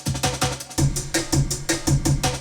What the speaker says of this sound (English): I think it was an old jungle break.